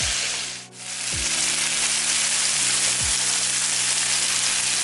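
Marinated taco meat fries in a hot pan with a steady, loud sizzle, broken by a few brief clunks as pieces are dropped in or shifted.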